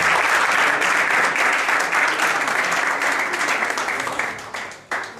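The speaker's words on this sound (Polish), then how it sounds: "Powitajmy ich brawo." Audience at a Polish football club talk evening applauds to welcome two former players as guests, a dense sustained burst of clapping that fills the room and begins tapering off near the end.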